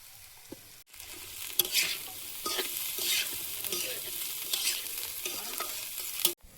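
Cabbage and other vegetables fry in a wok, crackling and sizzling up close while a spatula stirs and scrapes them in brisk, repeated strokes.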